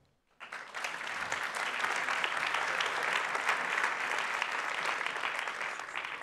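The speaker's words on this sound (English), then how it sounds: "How about an applause for our forum?" The audience at a European employment and social rights forum bursts into applause after a brief silence, and the full, sustained clapping stays loud and even to the end.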